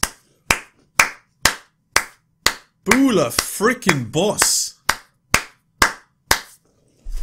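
One person claps hands in slow, evenly spaced single claps, close and crisp. Midway the clapping pauses while someone speaks, then the steady beat resumes.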